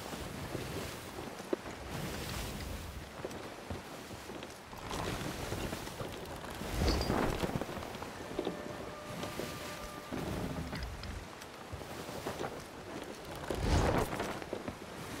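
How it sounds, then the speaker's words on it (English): Wind and rolling ocean waves around a sloop sailing in Sea of Thieves, a steady rushing wash with swells that rise and fall, plus brief creaks and tones from the ship. "The waves are bad right now because it is bad."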